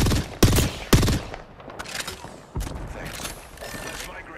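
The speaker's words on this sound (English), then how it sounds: "Taking fire. Firing." Sharp, loud gunshots in Apex Legends crack out in a quick pair, then come back as scattered single shots mixed with mechanical weapon clicks. The shots are close, with a voice speaking briefly between them.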